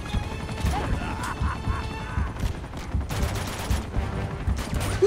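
Gunfire erupts in the video game Uncharted 2: Among Thieves, with bursts of sharp shots and crashes over a rumbling game soundtrack and no clear talking.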